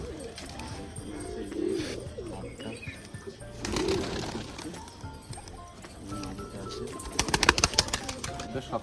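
Pigeons being released from a cage cooing softly amid rustling, fluttering and scattered clatter, faint low coos under a busy background with a burst of wing flaps near the end.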